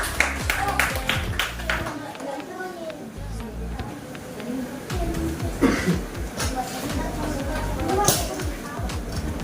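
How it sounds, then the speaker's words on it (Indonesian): Students in an Indonesian-language classroom clap in scattered, uneven bursts alongside children's chatter and voices, the claps sharp and close in a busy, lively room. "Betul, tepuk tangan."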